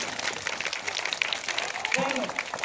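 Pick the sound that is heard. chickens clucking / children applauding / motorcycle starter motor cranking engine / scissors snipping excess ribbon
children applauding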